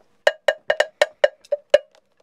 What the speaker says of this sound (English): The cowbell.